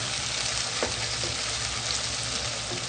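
Tomatoes frying in a pan for a Punjabi tinda curry, a close, steady sizzle that holds evenly throughout with faint stirring, no voices.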